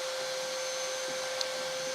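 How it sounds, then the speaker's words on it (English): A wet vacuum cleaner that can also suck up water and scrap, running in a van being built, a loud steady whine with a constant high tone, close and unbroken, with no voices. "So this can hoover up like chunks of metal, chunks of wood, any scrap."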